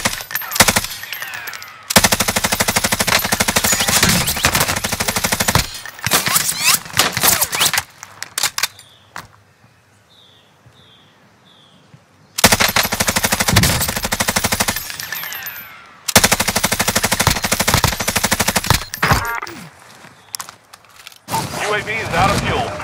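Sustained bursts of automatic gunfire from a UAV drone strike in the video game Warzone, loud and rapid, broken by a quieter pause before more long volleys resume.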